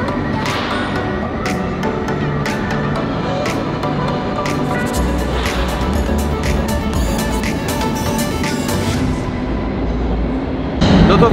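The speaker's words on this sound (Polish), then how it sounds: "Nasz pociąg jedzie." A train pulling into a station, with a steady rumbling wheel-and-rail roar, faint squeals and clacks rising over the platform ambience throughout, and a louder surge near the end.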